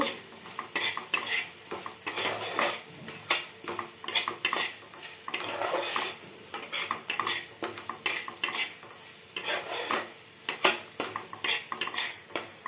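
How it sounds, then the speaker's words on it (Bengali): Spices being stir-fried in a pan, with a spatula scraping and clattering against the metal in a steady, busy rhythm over a soft sizzle, close and fairly loud throughout. "এবারে এটা আমি ভালো করে কষে নিয়ে তারপরে আমি করব"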